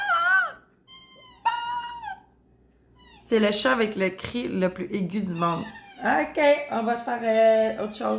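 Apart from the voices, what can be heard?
cat meowing with very high-pitched cry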